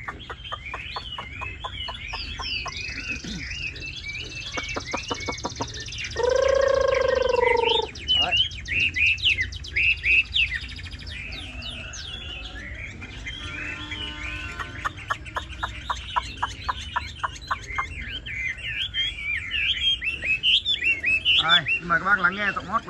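A tame Chinese hwamei songbird sings nearby, loud and lively, in a long run of varied, repeated phrases of rapid chirps and whistles, with one sustained tonal note partway through.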